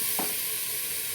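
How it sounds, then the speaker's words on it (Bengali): Spiced vegetables being stirred in a hot pan, giving an even, close sizzle with a brief scrape of the spoon near the start, with no talking. "দেখো, মশলাটাকে ভালো করে সবজির সাথে নেড়ে নেব।"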